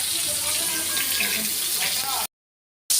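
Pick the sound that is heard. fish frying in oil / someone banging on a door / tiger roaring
fish frying in oil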